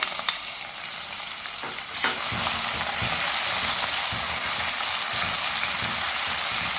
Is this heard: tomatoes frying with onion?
yes